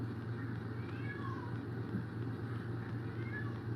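A domestic cat meows a few times in a quiet indoor home studio, fairly close, over a steady low hum with a voice speaking softly nearby.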